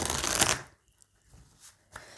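Cards are shuffled and cut for a reading. A close, brisk riffle is followed by a pause, then a few faint taps and soft slides of the deck.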